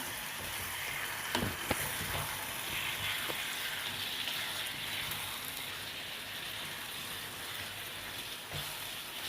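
Marinated chicken sizzles and fries in a spice paste, a soft continuous crackle with a few sharper pops and stirring clatters.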